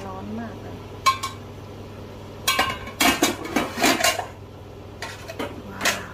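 A knife clinks against the metal lid of a hot cooking pot holding Isan-style steamed tilapia with dill, giving several sharp metallic taps and scrapes that are close and moderately loud, with short pauses between.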